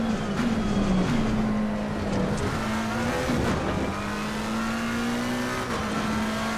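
A McLaren GT race car engine at Zolder in Assetto Corsa Competizione, loud and close from the cockpit, holding a high steady whine with a few dips and rises in revs as the car brakes and accelerates.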